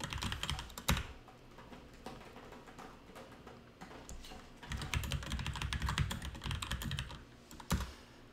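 Computer keyboard typing in quick bursts of crisp key clicks with short pauses between runs, close and fairly quiet, entering commands on a norns sound computer.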